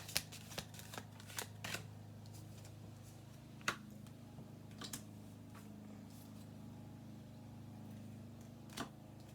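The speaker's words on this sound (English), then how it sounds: "I'll do one more shuffle, okay?" Quiet riffling bursts of playing cards being shuffled, then a few soft scattered clicks over a low steady hum.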